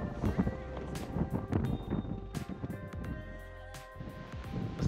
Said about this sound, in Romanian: Pur și simplu mă dărâmă vântul aici, atât de tare bate.